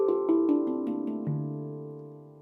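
A handpan struck with the finger pads in a muffled style plays a slow descending run of about seven soft notes, each warm and rounded with a short ringing decay, quiet and solo.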